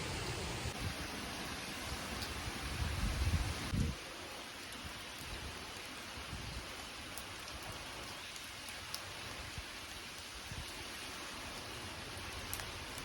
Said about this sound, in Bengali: এদিকে তো বিশাল বৃষ্টি শুরু হয়েছে